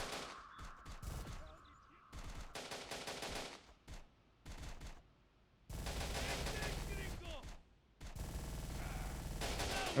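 Bursts of automatic gunfire in the Terminator Dark Fate Defiance video game, loud rapid volleys in several separate stretches with short pauses between, with a player's voice briefly heard.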